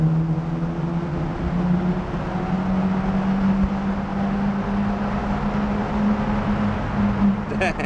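A Mazda RX-7 FD idles and drones steadily at a busy car meet in Japan, its rotary engine giving a low, constant hum throughout. A brief rattle is heard near the end, and no voices are heard.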